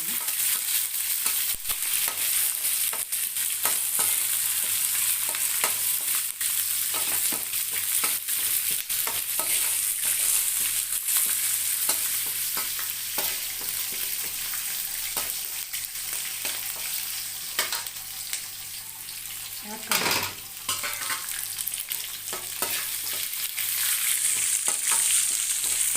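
Green chillies frying in oil for mango and lemon rice, a continuous close sizzle with scraping stirs and occasional clatter, with no talk over it.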